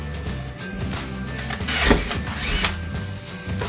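An electric drill whirs steadily, rising into a harsher grinding as it bites through plastic pipe for a chicken waterer, close and moderately loud.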